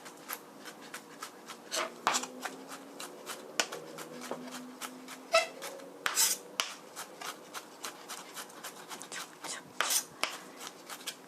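A knife minces food on a cutting board in a home kitchen while making tomato-sauce fusilli, producing quiet, fairly steady rapid taps and knocks with occasional louder chops.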